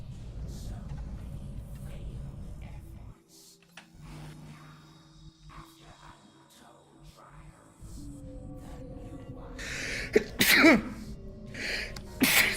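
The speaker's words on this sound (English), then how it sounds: "Sorry, I didn't want to sneeze into the microphone." A single close sneeze into a microphone during a session of XCOM Enemy Within, sharp and loud after quieter muffled moments, with faint room noise around it.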